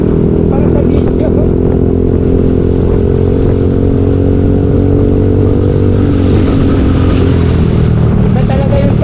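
Motorcycle engine running steadily while riding on a road toward Tarlac City, a loud continuous low drone with rumbling harmonics throughout, with someone speaking over it.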